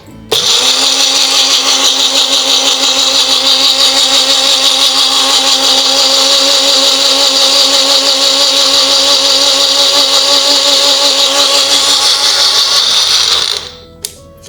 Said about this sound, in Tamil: இதோட கொஞ்சம் நீர் விட்டு அரைச்சிக்கலாம்.